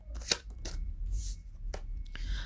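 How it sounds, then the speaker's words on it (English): Tarot cards are shuffled and pulled, giving a few quick papery riffles and flicks, close and soft, with short pauses between them. "So we're going to pull some cards on this, but this is what I'm getting as the cards come out."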